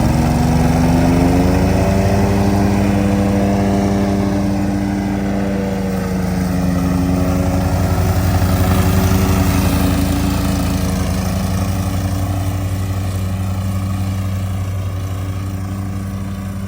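Walker and Hustler Hyperdrive 66-inch zero-turn mowers from 2023 run steadily at close range, a loud continuous engine drone with a slight rise and fall in pitch over the whole stretch, no talk.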